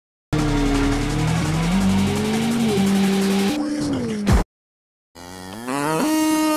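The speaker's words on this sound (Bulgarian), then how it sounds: "Крава, крава," A cow moos in long, loud, low drawn-out calls, followed after a brief silence by a rising mooing call near the end, close and clear.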